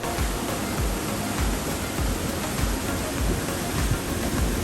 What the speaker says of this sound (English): ending on a bridge over rushing water in a rock-filled river